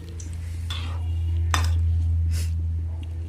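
A lid is set on a cooking pot on the stove with a couple of metallic clinks and a scrape over a steady low hum of cooking.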